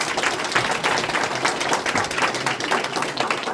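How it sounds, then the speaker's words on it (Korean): A large audience at a provincial transition committee launch ceremony claps to welcome the policy planning officer to the stage, a loud, steady burst of many hands that holds strong for the full few seconds with no talk. "여러분 큰 박수로 맞아주시기 바랍니다."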